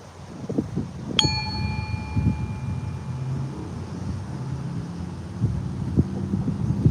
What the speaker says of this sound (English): 3 bells.